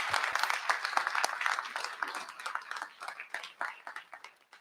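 A live workshop audience gives a round of applause, dense clapping from many hands heard at moderate distance, steady and then tapering off toward the end.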